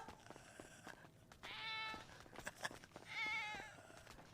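A cat meows to be let in, giving two drawn-out, plaintive meows with quieter rustling and background noise between them.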